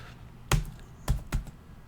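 A file name typed on a computer keyboard, three distinct close key taps spaced irregularly within a short quiet moment.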